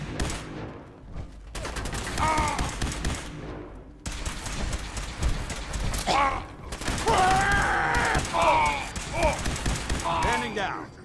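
Rapid bursts of automatic gunfire crackle through a Fallout 4 firefight, dense volleys of sharp shots in several long runs with brief gaps, loud and close, while a voice shouts over parts of it.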